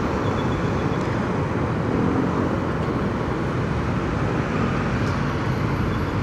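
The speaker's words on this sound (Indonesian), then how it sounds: "coba bawa ke jalanan yang kayak gini, yang berisik, yang suara anginnya gede" Busy, noisy road traffic with a constant dense rumble of engines and tyres, steady and fairly loud with no distinct single vehicle standing out.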